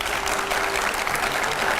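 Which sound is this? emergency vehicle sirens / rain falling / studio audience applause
studio audience applause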